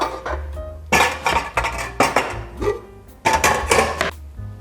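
Knife cutting food on a board, sharp irregular chopping knocks in quick clusters, close and fairly loud.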